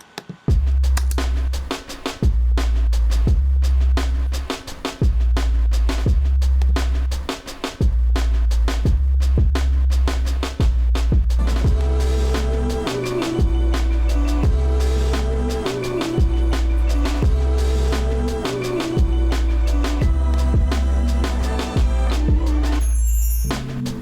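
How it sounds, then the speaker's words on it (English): A hip hop beat with heavy booming bass and punchy drums playing together, loud and steady throughout, with a repeating groove and a mid-range melodic part entering partway through. "I'll show you what it sounds like with just the drums and the bass"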